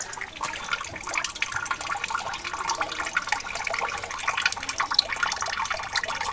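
Continuous bright splashing and churning of water as someone plunges in and stays underwater, loud and close throughout with no pause and no talking.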